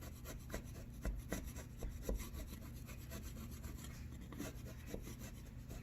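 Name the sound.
carving a rough line in plaster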